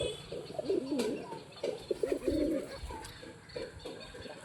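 Several pigeons coo in low, rolling bursts, with overlapping calls that rise and fall across the stretch amid faint background rustle and a brief flutter near the end.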